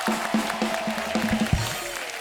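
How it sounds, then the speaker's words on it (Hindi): A studio audience on The Kapil Sharma Show applauds to welcome actress Mandakini. The clapping is a steady, dense wash, with tonal music playing underneath throughout. "जोरदार तालियां हो जाए"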